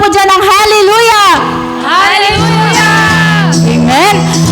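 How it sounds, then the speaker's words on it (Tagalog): Worship congregation shouting together loudly in a sustained, enthusiastic group cry, with rising and falling voices and pauses between bursts, over music. "Isang sigaw nga po dyan ng hallelujah!"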